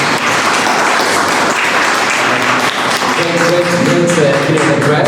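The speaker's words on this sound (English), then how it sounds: "round of applause for this" Audience applause following an address at a conference on European identity, a steady wash of clapping that holds for several seconds, with a voice and some tonal sound entering toward the end.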